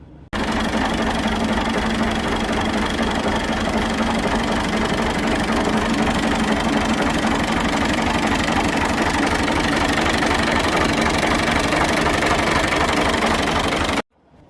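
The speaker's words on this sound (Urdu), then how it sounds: "آپ نے آواز سنی ٹریکٹر کی، ماشاءاللہ بہت خوبصورت آواز بنی ہے" A Fiat Al Ghazi 65 HP tractor diesel engine runs at a steady idle with a knocking, rhythmic clatter, loud and close, starting abruptly and cutting off near the end.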